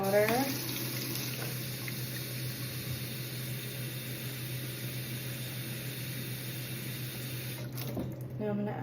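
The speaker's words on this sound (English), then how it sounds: "Now I'm going to add my water." Water runs into a spray bottle from a tap in a steady, close splashing stream that continues throughout, with a brief clunk near the end.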